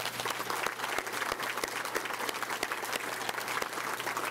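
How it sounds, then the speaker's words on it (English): Gala dinner audience giving a hearty round of applause: continuous, dense clapping with sharper individual claps popping out, sustained at an even level from start to finish with only faint voices. "I think they deserve a good hand of applause"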